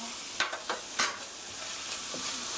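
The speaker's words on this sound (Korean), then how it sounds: "1분 정도 볶아주세요" Doubanjiang chili bean paste being stir-fried in a pan for mapo tofu: a quiet sizzle with a few sharp scrapes and clicks of a utensil against the pan early on, then a soft steady frying hiss.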